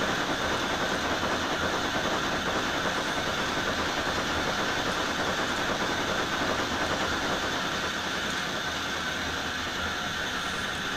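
A steam train runs in the TrainSim 2017 game on the Titfield Line, a steady dense rumble and hiss with faint rhythmic track clatter, continuous and fairly loud, with no talk.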